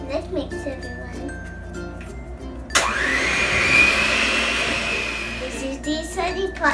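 An electric mixer beats white chocolate macadamia nut cookie dough, starting abruptly as a loud, steady whirring hum that runs for about three seconds before stopping, with a voice talking before and after it.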